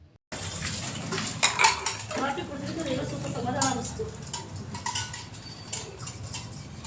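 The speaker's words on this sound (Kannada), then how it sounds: "ಪಾತ್ರೆ ಎಲ್ಲ ವಾಶ್ ಮಾಡ್ತಾ ಇದೀವಿ ಇಬ್ರು ಸೇರ್ಕೊಂಡು" Large, rarely used cooking pots and dishes being washed by two people at home during festival cleaning, with clinks and scraping of metal vessels under ongoing talk.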